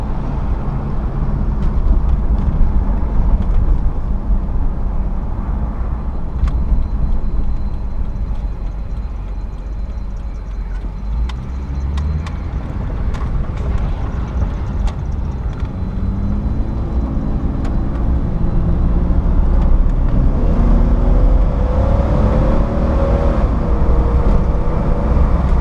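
A lifted, fully built Stage 3+ Jeep Cherokee XJ Sport with a winch drives along, giving a steady, continuous low engine and road rumble that holds evenly throughout with no talking.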